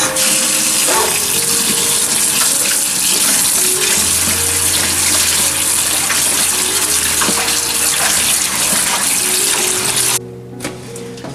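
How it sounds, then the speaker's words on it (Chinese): Tap water runs steadily over raw pork skin as it is rinsed clean of scraped-off fat, a continuous close splashing gush that stops abruptly near the end. "肥油都去干净以后，我们再清洗一遍。"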